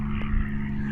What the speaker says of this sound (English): It's a little aeroplane.